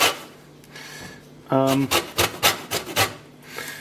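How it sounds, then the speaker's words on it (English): Romano cheese scraped against a grater in a kitchen, a quick series of rough rasping strokes in close succession after a brief tonal clink. "I'm going to grate all of this romano"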